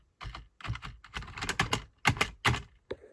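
Computer keyboard tapped out in quick irregular bursts of crisp clicks during a Windows 10 password entry, close and fairly quiet, no voices.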